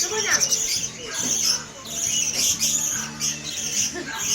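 A pet bird being hand-fed, with a young child helping, gives repeated harsh squawks up close while adults talk alongside.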